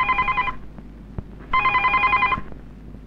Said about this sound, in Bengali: এই দারগা, টেলিফোন বাজে শোনা পারস না?